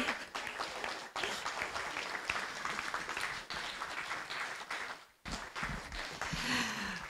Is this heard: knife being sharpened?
no